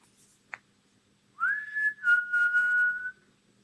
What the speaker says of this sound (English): I just learned to whistle.